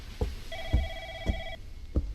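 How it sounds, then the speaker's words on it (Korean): A telephone rings with one clear electronic ring burst in a horror video game, set over a dim ambient hum and evenly spaced dull thuds. "뭐야 전화 왔어"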